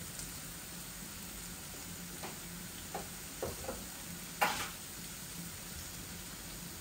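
Handmade chunga dried fish (shutki) fries quietly in a pan with a soft, steady sizzle, punctuated by a few light clicks and taps of a utensil, with no one talking.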